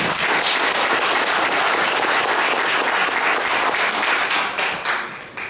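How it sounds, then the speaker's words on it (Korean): An audience at a year-end charity poetry-recital concert applauds warmly. Dense, loud clapping from many hands fills the room steadily before tapering off near the end. "앞으로 같이 하겠다는 마음에서 박수 한번 부탁합니다."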